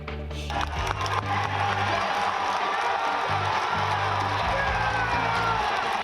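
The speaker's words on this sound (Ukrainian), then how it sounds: "І наелектризований та збурений натовп підхоплює заклик" An electrified political rally crowd at a Trump event roars and cheers continuously, a loud dense wall of shouting and whooping voices with rhythmic chanting pulses underneath, taking up his call to fight.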